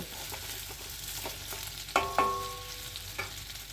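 Pasta stirred and lightly fried in a pan: a soft continuous sizzle with scraping stirs and a few sharp utensil clinks against the pan, close and quiet, no talking.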